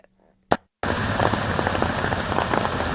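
After a brief quiet moment and a sharp click, heavy late-night rain begins pouring down in Bengaluru, a dense steady roar of drops hitting surfaces close by.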